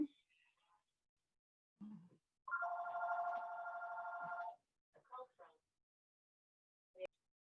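An office telephone rings with a steady electronic trill lasting about two seconds, fairly clear, between short stretches of speech from people nearby.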